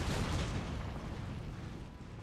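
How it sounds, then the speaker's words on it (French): Artillery fire from cannons in a Napoleonic-era naval battle, Empire Total War, with a burst of booming shots rolling into a continuous rumble, loud at first and slowly fading. "Il y a eu des beaux tirs là-dedans."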